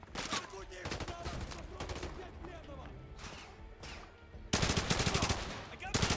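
Rapid bursts of automatic gunfire and scattered single shots from the Modern Warfare 2 Remastered campaign, loud and close, with a player talking over the firefight at times.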